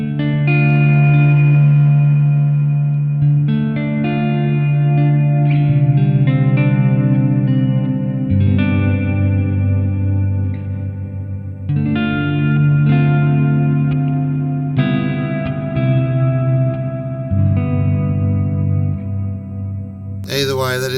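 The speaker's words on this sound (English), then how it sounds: "that is a really lovely reverb. Plate reverb." Sustained electric guitar chords ring out through a lush plate reverb from a Hotone Ampero Mini, the tails blooming and overlapping between strums, steady and fairly loud.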